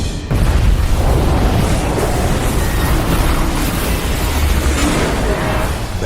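A bomb explosion in a movie trailer booms loud and close, a massive blast that starts suddenly and then rolls on in a dense, sustained roar of rumble and debris.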